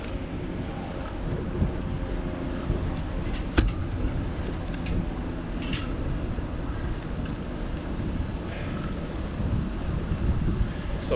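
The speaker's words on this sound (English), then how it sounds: "It's a windy day today." Wind rushes steadily past a rider's microphone on a windy day during a bike ride in Florida, a constant broadband roar with occasional gusts and faint bumps, no speech heard.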